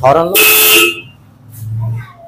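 A Minda D95 horn fitted to a modified Hero Splendor motorbike gives one short, loud blast after a voice, then fades into quiet background hum.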